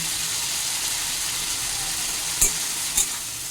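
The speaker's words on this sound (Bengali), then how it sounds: "ভালো করে নেড়ে চেড়ে দিচ্ছি" Spices with cumin powder fry in hot oil while being stirred, a steady soft sizzle with two brief scraping clicks of the spoon near the end, and no talking.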